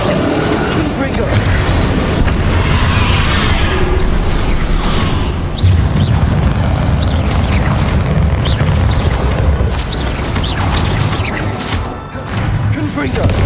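Repeated booming fire-spell blasts from Confringo in the Hogwarts Legacy video game, loud and dense throughout, mixed with game clatter and spoken spell shouts.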